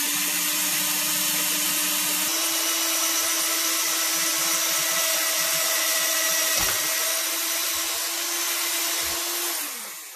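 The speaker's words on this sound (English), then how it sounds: "so we can drill through the plug so the bolt can go all the way through" A power drill whirs steadily for about ten seconds, drilling through the plug of a hockey stick, starting with a higher motor pitch and then settling into a grinding bite through material before winding down.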